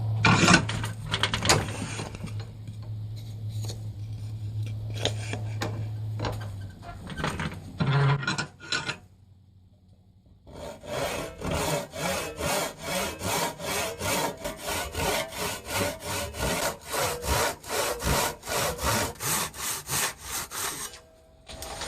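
A hand saw resaws a wooden board with steady, rhythmic back-and-forth strokes, close and loud, pausing briefly midway before resuming a fast, regular cadence.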